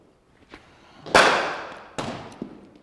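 Cricket bat striking the ball at net practice, a sharp solid crack followed by a second, slightly softer impact, close and loud with no talk over it.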